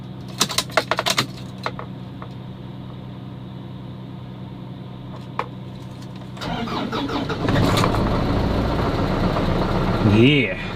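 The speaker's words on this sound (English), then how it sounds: "Yeah, start it up, baby." A diesel lawn tractor engine cranks and catches after a few clicks and a long quiet hum, then runs loud and rough close by, with a voice briefly heard near the end.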